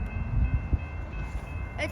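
An F40PH diesel locomotive rumbles past at Dee Road, a steady low engine drone with a few heavier thumps, fairly loud and close, with no talk over it.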